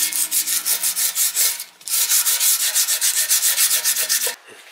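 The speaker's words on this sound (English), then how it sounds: "I'm just kind of wiping over the paint with some lacquer thinner because it's just on entirely too thick" Lacquer thinner being rubbed with a rag over thick paint on a motorcycle part, a steady run of quick back-and-forth wiping strokes, close and fairly loud, pausing briefly once before continuing.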